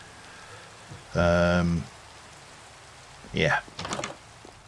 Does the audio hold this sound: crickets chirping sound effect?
no